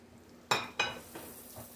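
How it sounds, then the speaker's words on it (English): Onions drop into a pan for shrimp scampi, a couple of sharp clattering hits followed by a faint sizzle and a light clink, close and quick with no talking. "We're going to put in our onions."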